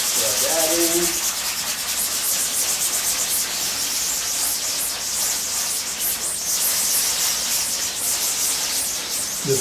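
Steady rough rubbing and wiping as cleaner is rubbed into a screen-printing screen, a continuous close scrubbing hiss with brief faint voice at the start.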